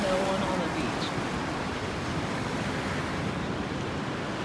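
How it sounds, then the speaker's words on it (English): Ocean surf rolling onto a beach at dawn, a steady broadband wash of waves with some wind noise on the microphone, continuous and fairly soft with no break. "welcome to day 6 at the beach"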